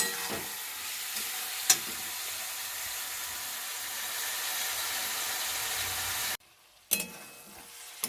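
Spice masala frying in oil for a cauliflower and rohu fish curry, with a quiet steady sizzle, a couple of sharp stirring clicks, and a brief drop to near silence before the frying returns.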